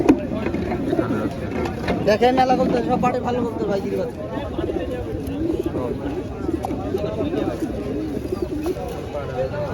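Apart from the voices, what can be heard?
pigeons cooing at a pigeon market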